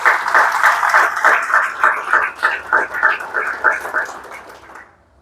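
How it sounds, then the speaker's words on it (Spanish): A church congregation claps in praise for several seconds, a dense, steady burst of many hands that thins and fades out toward the end. "¿Cuántos le pueden dar un aplauso al Señor?"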